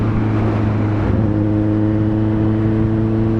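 Suzuki Hayabusa motorcycle fitted with a Brocks exhaust, revving with a deep, steady rumble that swells slightly mid-way, loud and close throughout.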